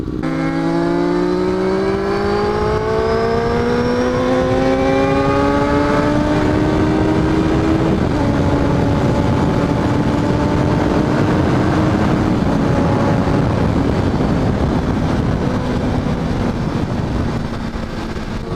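A motorcycle is ridden on an outing with another rider, its engine note climbing through the gears then holding a steady drone under loud, constant wind rush.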